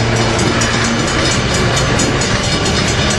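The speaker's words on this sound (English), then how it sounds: "Notice this is the Amfleet train. It's not a P42 DC this time. This is an F59 PHI." Amtrak Amfleet passenger train hauled by F59PHI locomotive 460 near San Juan Capistrano in Southern California, its wheels rumbling loudly and clacking rhythmically on the rails as it passes close by, with no talk.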